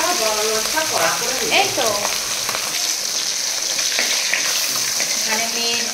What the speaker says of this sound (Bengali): এখানে মেয়েটার আর মেয়েটার বাবার মাছ ভেজে রেখে দিচ্ছি, মাছ ভাজা